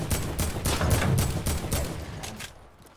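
An AK rifle firing in a video game, a rapid automatic burst of about eight close, punchy shots that trails off at the end.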